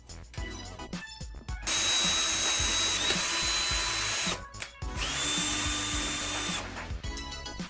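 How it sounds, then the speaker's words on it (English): A Ryobi power drill bores a small 1/8-inch pilot hole into wood, two sustained high motor whines of a few seconds each, close and loud, separated by short pauses with light handling clatter. "We're gonna drill a very small pilot hole, about 1/8 of an inch."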